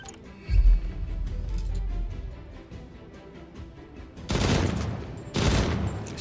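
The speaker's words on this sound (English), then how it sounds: "Shooting through the sandbags." Gunfire from a rifle shooting through sandbags in the video game Jagged Alliance 3, a low thump followed later by two loud, sustained bursts of shots, close and alone without talk.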